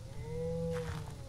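A cow lows in a farm-themed horror video game, one drawn-out moo held for about a second at moderate volume against a quiet low hum.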